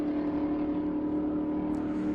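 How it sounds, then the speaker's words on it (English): A 427 big block Chevy race car engine drones steadily at a distance on a racetrack, a constant low rumble with no talking. "That's a 427 big block Chevy engine in that car"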